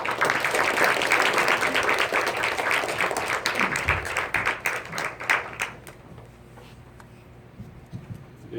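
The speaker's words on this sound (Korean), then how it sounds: "큰 박수를 부탁합니다" An indoor audience at a lecture claps warmly, loud and dense at first, then thinning to scattered claps and dying away.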